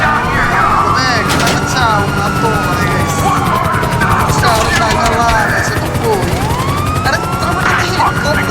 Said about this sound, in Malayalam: എന്താണ് 4 പോലീസിനെ വെടിവെച്ചിടുമ്പോഴേക്കും